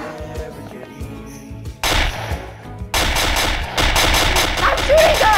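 Loud gunfire erupts after a quieter stretch of tonal background sound, building into rapid, sustained bursts of shooting that fill the rest of the clip.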